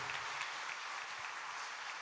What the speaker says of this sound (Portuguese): nós vamos aplaudir Jesus nesse momento precioso